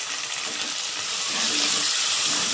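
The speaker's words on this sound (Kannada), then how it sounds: "ಇದು ಟೊಮೊಟೊ ಹಾಕ್ತಾಯಿದ್ದೀನಿ ಇವಾಗ." Tomatoes go into a hot pan while horse gram sambar is being cooked, giving a steady, close frying sizzle with a bright hiss that swells louder partway through.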